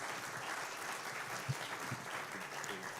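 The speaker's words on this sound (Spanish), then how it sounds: "Recibámosle con un aplauso de ánimo, Robin Cifuentes." Church congregation gives a round of welcoming applause for a visiting missionary preacher in a Spanish-language service: steady, fairly soft clapping spread evenly across the room for about three seconds, with no talking over it.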